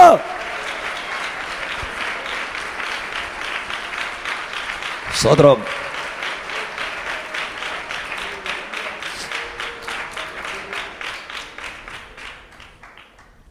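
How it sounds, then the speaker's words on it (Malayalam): A church congregation clapping hands in rhythm during a fasting prayer service, steady brisk claps with a brief spoken exclamation midway, gradually fading toward the end. "ശക്തിയോടെ കൈയടിച്ചേ മക്കളെ, ഒന്ന് കൈയടിച്ച് ശക്തിയോടെ ദൈവത്തെ ആരാധിക്കുക"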